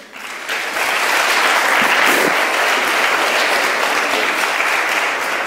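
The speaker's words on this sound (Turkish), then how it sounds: "O zaman da bizi alkışlarsınız." An audience at a workshop ceremony applauds, the clapping swelling quickly after a brief quiet start into loud, sustained, even applause from a room full of people.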